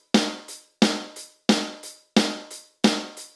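Five evenly spaced two-hit cymbal figures from a drum pattern, each a crisp strike followed by a softer second hit, played alone, close and fairly loud.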